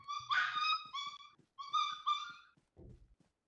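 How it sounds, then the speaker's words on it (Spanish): A small dog in a video game lets out two bursts of high, harmonic squealing yelps, each with several rapid cries, followed by a short low thud; loud and close, with no talk over it. "No, hombre, es una perrilla chillona."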